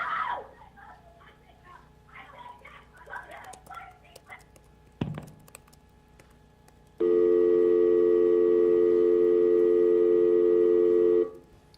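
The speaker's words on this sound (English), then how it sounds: "The remaining time on that audio will just be a dial tone" A steady, loud telephone tone sounds alone for several seconds after a stretch of faint muffled voices and a brief thump.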